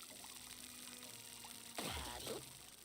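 Watering can splashing water onto a melon in the farming game Grow: Song of the Evertree, a short soft pour and trickle rising suddenly over a faint ambient music bed.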